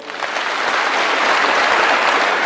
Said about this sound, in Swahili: PS wetu wa internal security Raymond Omoro, pigieni yeye makofi.